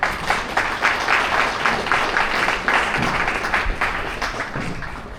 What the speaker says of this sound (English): Again, big round of applause.